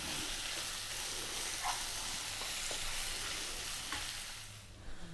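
Bacon and onion fry together in a pan with a loud, steady sizzle and hiss, broken by occasional stirring scrapes, easing off slightly near the end.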